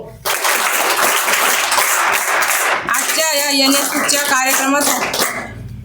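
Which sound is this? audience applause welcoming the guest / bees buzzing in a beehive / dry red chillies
audience applause welcoming the guest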